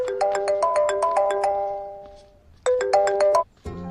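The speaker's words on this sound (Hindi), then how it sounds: "आपको किसी का फोन आ रहा है।" A mobile phone plays a bright melodic ringtone for an incoming call: a repeating pattern of chiming notes, loud and close, stopping briefly before starting again.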